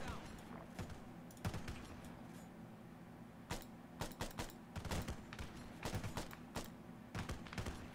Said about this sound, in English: that shotgun going off, this is pretty cool